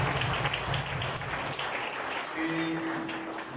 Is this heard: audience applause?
yes